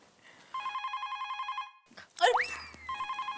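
A household telephone rings in a Hindi TV sitcom scene, repeated electronic trills, loud and close, broken midway by a sharp squealing burst and other noise before the ringing resumes.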